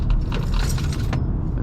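Keys jangling and rattling inside a 2016 Honda Civic being driven hard through tight corners on a back road, a loud, close metallic clatter of irregular clinks over a steady low road rumble.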